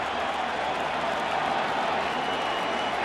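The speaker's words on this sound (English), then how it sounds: "And this crowd is having fun here in the second." Large World Series crowd at a baseball stadium, Royals against Giants in Kansas City, producing a steady, dense roar of cheering and applause that fills the whole stretch without pause.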